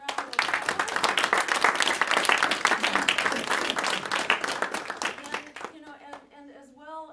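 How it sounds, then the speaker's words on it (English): A town hall audience breaks into dense, loud applause that swells and holds for several seconds, then dies away as a voice begins speaking. "And I want to give Scott a big round of applause."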